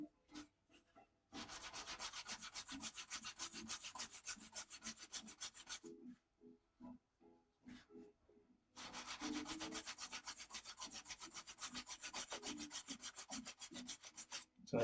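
A rusty metal washer scrubbed clean, two long bursts of rapid rhythmic rasping strokes separated by a pause with a few scattered taps, close and clear with no talking.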